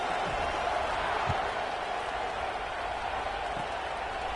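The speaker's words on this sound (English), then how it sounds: "this crowd is buzzing after that last score" A stadium crowd at a Georgia vs LSU college football game buzzes after a touchdown, a dense, steady roar of many voices with scattered claps, distant and continuous.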